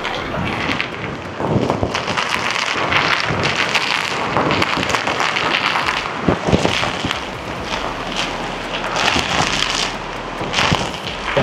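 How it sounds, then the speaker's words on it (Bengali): Heavy monsoon rain and strong gusting wind on Mumbai's Marine Drive seafront, a steady loud roar of downpour with wind buffeting the microphone throughout, with no clear talk. "এত বৃষ্টি হচ্ছে"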